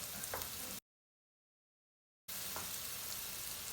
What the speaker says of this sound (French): Je fais tomber mon échalote et mon ail, mais sans coloration.